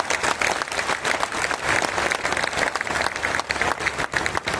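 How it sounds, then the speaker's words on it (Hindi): A large crowd at the Maharajganj Mahotsav poetry festival breaks into loud, dense applause, a thick, sustained roar of many hands clapping at once with no talk on top. "तो एक बार तालियां बजाकर बता दीजिए"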